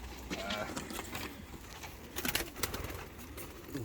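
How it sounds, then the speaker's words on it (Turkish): Large Roman pigeons coo softly and repeatedly up close, their low burbling calls mixed with rustling and faint background noise. "Bunlar da romer dediklerimizden upuzun kuşlar arkadaşlar."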